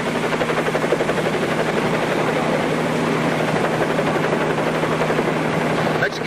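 A police helicopter's steady, loud rotor chop throbs throughout, close and continuous, with no pause or change in pace.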